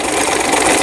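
Janome 890 sewing machine sewing a triple stitch, a loud, steady, close motor hum with fast needle rattle throughout the short burst, no voices.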